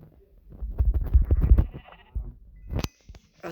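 Sheep in Minecraft bleat several times in quick succession, a wavering cluster of calls followed by a shorter bleat after a pause, clear and close with no talk.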